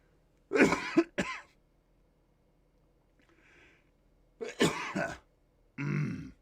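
Three separate bursts of coughing from a podcast host, a pair of harsh coughs early on, another rough burst near the middle and a last throaty one at the end, close to the microphone with quiet gaps between.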